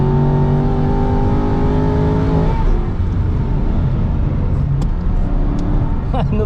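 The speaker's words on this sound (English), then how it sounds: "Another redundant gear change" Aston Martin V8 Vantage engine on an onboard lap of the Nürburgring, a loud sustained drone with a falling pitch as revs drop through a gear change, then a steady engine roar with faint clicks over it.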